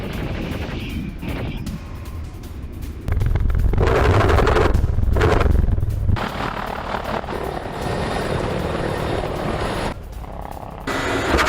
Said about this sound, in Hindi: रूस का M135M हेलीकॉप्टर से विध्वंसक एक्शन